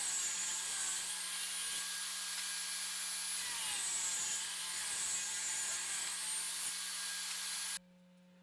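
Power saw cutting strips of wood 1.5 inches wide and about half an inch thick, a loud, steady high whine running close for several seconds before stopping abruptly, leaving a quiet hum.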